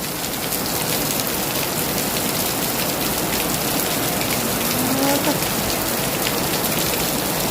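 Steady rain pours down outdoors during a downpour in Thailand, a dense continuous hiss of drops on surfaces with faint background voices under it.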